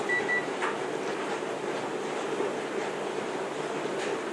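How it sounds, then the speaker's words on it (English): A dishwasher, washer and dryer hum and whir steadily in the background, a constant moderate drone with faint clicks, no voices. "You hear a lot of noise in the background. I have the dishwasher going"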